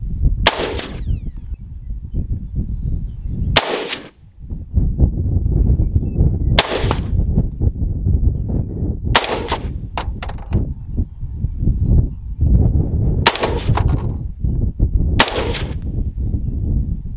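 A .308 rifle fired at a 3/8-inch AR500 steel target on a range: six loud, sharp shots spaced a few seconds apart, each ringing briefly, over steady outdoor wind noise.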